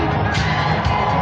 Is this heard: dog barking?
no